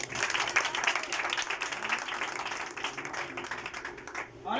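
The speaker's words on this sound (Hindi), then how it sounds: "तो फिर उस यीशु के लिए भरपूर तालियां।" A church congregation bursts into warm applause for Jesus, dense overlapping clapping that holds steady before tapering off, fairly faint and distant-sounding.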